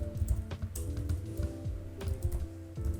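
Steady typing on a computer keyboard while coding, close-up clicks of keys in quick irregular runs, fairly quiet and with no voice over it.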